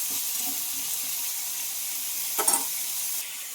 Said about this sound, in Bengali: তো আলুগুলো আমি দিয়ে নিচ্ছি আর এইভাবে একটা একটা করে সবজি দেবো আর একটু এইভাবে নরম করে নেবো